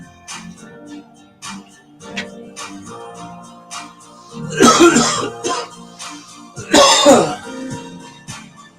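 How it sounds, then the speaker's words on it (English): A person coughs hard in two loud, raspy fits, with quieter breathing and small throat sounds in between. "You don't get off if you don't cough."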